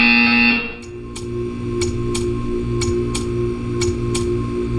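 Buzzer in the Portal 2 video game: a steady electronic drone with a repeating pulse and a sharp ticking click at regular intervals, loud and alone, after a brief tone at the start.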